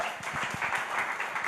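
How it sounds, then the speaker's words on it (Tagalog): Applause from a church congregation giving praise to the Lord, a steady wash of many hands clapping together, close and continuous for the whole moment. "Palakpak para kay Lord."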